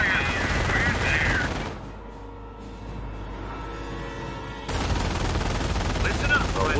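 Dense, loud World War II small-arms and machine-gun fire in the Normandy game Company of Heroes, heavy bursts that drop briefly to a quieter rumble of distant shooting before surging back in full force.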